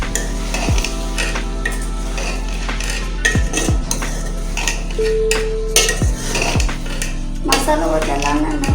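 A spoon stirs masala for bhindi in a pan, giving repeated metallic scrapes and clinks against the pan in an irregular rhythm over a steady background, close and fairly loud.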